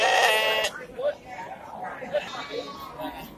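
A single loud, close sheep bleat opens among pregnant ewes at a village livestock market, then gives way to low crowd chatter and murmuring.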